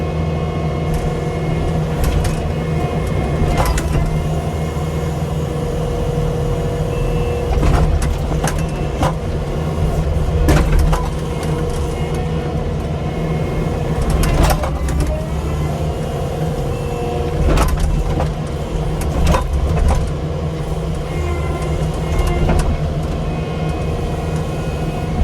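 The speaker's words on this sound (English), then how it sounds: "when I'm trying to push forward, the soil is so powdery that the treads just spin in place" Tracked machine engine droning steadily and loud while the treads spin in place in powdery soil, with short higher bursts of grinding and scraping recurring every few seconds over the constant low rumble.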